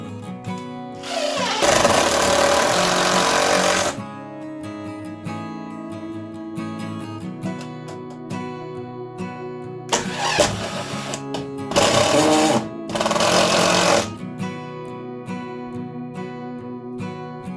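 A power driver sinks screws to mount an oscillating fan on a wall: loud whirring bursts of a few seconds each, one long then several shorter ones, separated by quieter handling sounds, with no talk.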